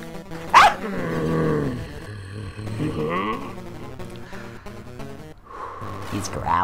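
A creature in the video game Aban Hawkins and the 1001 Spikes growls and roars in several rough bursts, loud and close, with a person talking over it.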